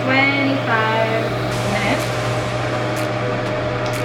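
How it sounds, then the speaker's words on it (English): A hooded hair dryer runs with a steady mechanical hum and airflow whir, continuous and fairly close, with a voice briefly at the start. "So I'm going to be under the dryer"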